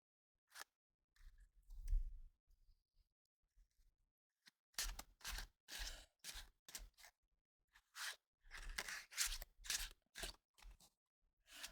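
Tarot cards being shuffled by hand, a series of crisp riffling and slapping bursts in irregular clusters, close and fairly quiet with short gaps between, no talking.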